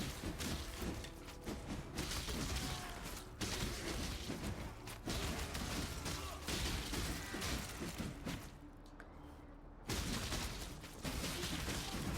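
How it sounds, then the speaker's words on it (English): Machine gunners in the Path of Exile video game fire continuous bursts of rapid gunfire with booming impacts, dense and loud throughout, briefly dropping out near the end before resuming. "Now these machine gunners are another nuisance."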